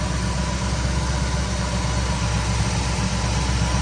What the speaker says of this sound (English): And it idles and it runs and all right.